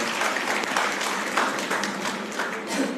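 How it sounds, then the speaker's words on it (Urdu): An audience at an academic workshop lecture claps loudly to welcome a professor to the stage. The applause is steady and dense throughout. "زوردار تالیوں کے ساتھ ان کا استقبال کیا جائے"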